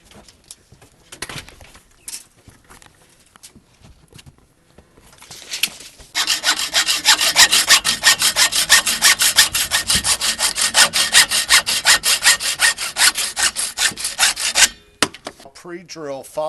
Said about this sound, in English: Now I'll cut the pieces using a hacksaw.